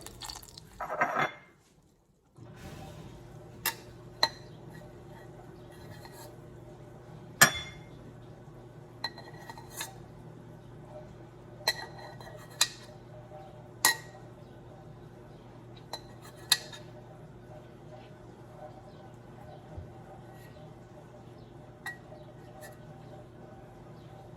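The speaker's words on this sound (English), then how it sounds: "We're going to skim that milk fat out." A spoon clinks against a pan while milk fat is skimmed off melted butter to clarify it for stuffed mushrooms. The clicks are scattered and sparse and come over a quiet steady hum, with a short louder scrape at the start.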